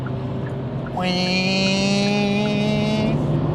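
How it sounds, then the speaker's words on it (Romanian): A Kia Picanto's small engine revs hard in third gear while overtaking at about 80 km/h, giving a loud, steady droning tone heard from inside the car that climbs sharply in pitch and then holds high. "Nu vă fie frică să turați motorul."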